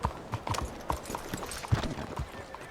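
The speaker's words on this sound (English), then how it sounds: "Foge, cavalo, foge." Galloping horse in Red Dead Redemption 2, rapid rhythmic hoofbeats clip-clopping close and continuous, with faint background game sounds.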